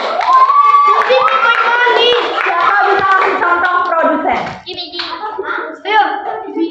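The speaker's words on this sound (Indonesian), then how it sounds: "Tepuk tangan dulu buat Gabriel" Children in a classroom clap for a classmate named Gabriel, a brief patter of small hands mixed with lively kid voices, then a teacher's voice speaking over the chatter.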